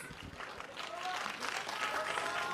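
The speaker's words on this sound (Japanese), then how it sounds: "拍手喝采" Applause from a crowd at a boat race venue in the rain greets the race winner during the post-race interview, a busy wash of clapping with cheering and voices mixed in, rising slightly toward the end.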